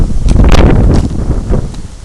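Gusty outdoor wind buffets a microphone in loud, rumbling bursts that swell and ease over a couple of seconds, with no other sound.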